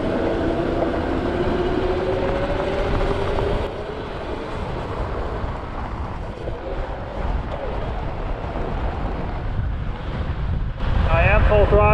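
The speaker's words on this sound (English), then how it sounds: "It's really windy though." Strong wind roars and buffets the microphone during a fast electric scooter ride along a San Francisco waterfront green, a loud continuous rush that dips briefly midway and surges again near the end.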